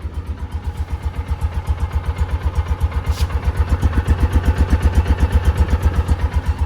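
A Kawasaki Mule utility vehicle engine, run on stale fuel, idles steadily with an even, rapid low thumping pulse that stays loud and close throughout, rising slightly in strength toward the end.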